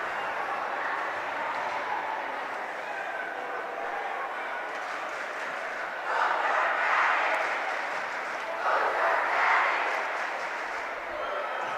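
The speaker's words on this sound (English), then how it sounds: "Both cheering sections here are ecstatic." Hockey crowd at a packed boys high school game, both cheering sections roaring in a continuous broad wash of noise that swells louder twice near the end.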